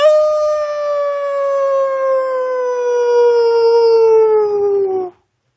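A person imitates a wolf howl, one long sustained wavering note that slowly slides downward before cutting off sharply, loud and close.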